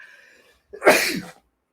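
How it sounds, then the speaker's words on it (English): A single sharp sneeze bursts out after a brief faint murmur, loud and close, then quickly fades to silence. "Oh, nice little sneeze."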